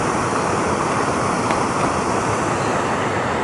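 Steady broadband rush of flowing river water, loud and continuous with no talk over it.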